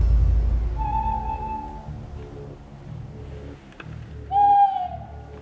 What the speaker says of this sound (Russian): это могла быть какая-то сова или филин